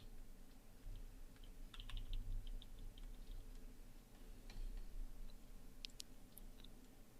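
Keys clicking on a computer keyboard, arrow keys tapped in short clusters of light ticks over a low steady room hum, quiet and close, with no talk.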